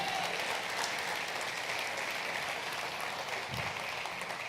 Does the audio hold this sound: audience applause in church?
yes